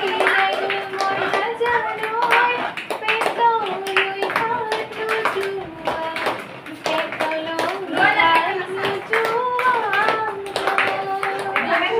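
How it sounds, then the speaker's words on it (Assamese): Children and adults clap in a steady rhythm at an anganwadi school, the hand claps running under continuous singing and voices that fill the room throughout. "হাত চাপৰিটো অকণ মাৰি দিয়ক"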